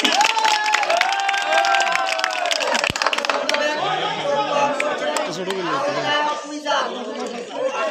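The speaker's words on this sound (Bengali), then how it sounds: "হাততালি প্লিজ।" A tournament audience applauds continuously, the clapping sustained for the whole stretch under dense crowd chatter, talk and occasional cheers.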